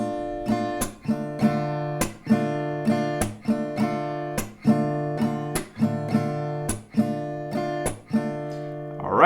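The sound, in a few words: guitar strumming rhythm, one round per chord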